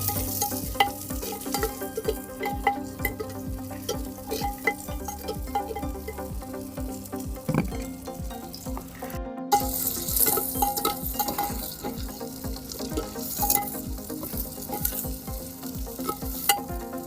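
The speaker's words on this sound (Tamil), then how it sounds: "ஒரு 5 நிமிஷம் நல்லா சின்ன வெங்காயம் நல்லா வதங்கட்டுங்க." Small onions sautéing in a clay pot, a steady sizzle broken by irregular stirring scrapes and knocks of a spoon, close and moderately loud, with no talking.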